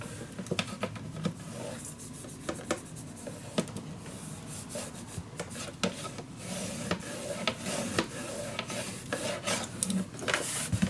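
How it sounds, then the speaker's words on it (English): A burnishing tool rubs scrapbooking paper flat on a mini album in a steady, close, dry rasping scrape that goes on throughout, with no voices. "Just let it flat and then you just burnish down the other one."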